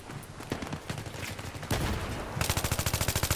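Gunfire in the Battlefield 3 video game: scattered shots and distant firing, then a close, rapid burst from an M16 rifle with evenly spaced cracks. No voices.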